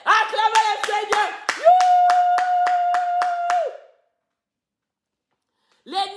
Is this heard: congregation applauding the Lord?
yes